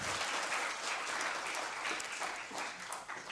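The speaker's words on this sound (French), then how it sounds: "On peut applaudir, Julien." An audience at a building-science conference applauds steadily for a few seconds, the clapping easing slightly toward the end.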